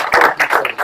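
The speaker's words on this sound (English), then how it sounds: "So big round of applause for Sergio." An audience claps in applause for a speaker at a coaching talk, a dense patter of hands in a room, close and loud, with no voices over it.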